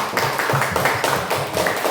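Classroom students clap for a student group after its presentation, a steady patter of many hands clapping together at moderate loudness, with no talk over it.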